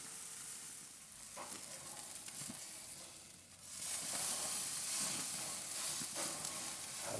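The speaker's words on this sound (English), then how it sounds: "This is my first steak on my gas grill." A steak sears on a Monument Mesa 400 gas grill, a steady close sizzle that swells into a louder, brighter hiss partway through, with crackles and faint scraping throughout.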